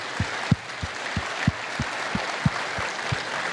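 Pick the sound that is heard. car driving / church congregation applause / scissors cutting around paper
church congregation applause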